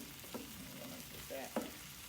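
Rice cooks in a pan with black beans and sausage, giving off a soft, steady low sizzle, faint and close, with a couple of light knocks.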